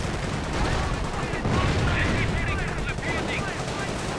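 Rapid machine-gun and rifle fire crackles in a Company of Heroes battle, with dense, loud overlapping bursts and small explosions near a bunker, continuous across the clip, with a faint voice in the mix.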